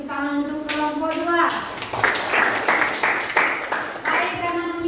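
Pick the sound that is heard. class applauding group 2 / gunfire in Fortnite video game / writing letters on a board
class applauding group 2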